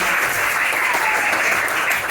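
A class of seventh-grade students at an Islamic junior secondary school claps in a steady, dense burst of applause for about two seconds, near and even, with no voices over it.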